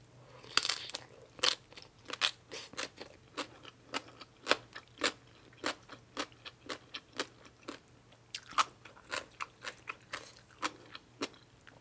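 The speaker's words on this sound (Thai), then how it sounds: "คือจะกินเส้นประกอบเส้นใหญ่ๆกรอบๆ" Crunchy thick noodles eaten with spicy papaya salad: loud, close crisp bites and chewing crunches in an irregular but steady rhythm, with no talking.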